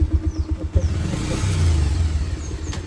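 A car engine runs and revs on a road trip toward the Jamuna Bridge in Sirajganj, a steady mid-pitched drone that swells and rises in the middle, loud and close, with no talk over it.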